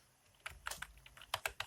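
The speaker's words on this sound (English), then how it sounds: "So now you type a new name" Keys tapped on a computer keyboard, a quiet run of about a dozen close clicks in uneven bursts after a brief silent start, no talking.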